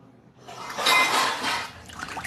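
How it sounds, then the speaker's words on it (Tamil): Ingredients for a pepper-broth dried fish curry (garlic, pepper, cumin, coconut, tomato) are rinsed in warm water, giving a short burst of splashing and clinking against a vessel that swells and fades within about two seconds. "நல்லா கழுவி எடுத்துக்கோங்க வெண்ணி தண்ணி."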